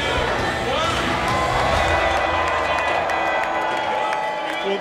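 A large crowd at the New Horizons Ultima Thule flyby party cheers, whoops and claps in a steady, loud roar that carries through the whole stretch, with voices calling out inside the noise.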